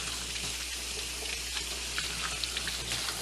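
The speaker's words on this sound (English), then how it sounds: "I'm going to give them another quick wash" Running tap water splashes steadily over hands being washed at a kitchen sink during cooking, a continuous close hiss and patter with no talk.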